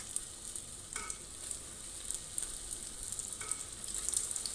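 Green pea kebabs frying in hot ghee, a steady soft sizzle running throughout with a couple of faint clicks, no talking.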